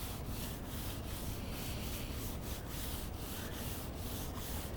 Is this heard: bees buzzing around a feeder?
no